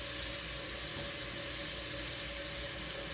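Tap water runs steadily into a sink while diamond earrings are rinsed, a constant even hiss with no pauses or talk.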